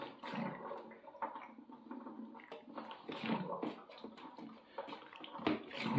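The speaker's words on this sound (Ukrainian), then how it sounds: "Звідси польється такими ривками води." Water drains from a boiler in irregular spurts, pouring and splashing loud and close, surging and easing over several seconds with no talking.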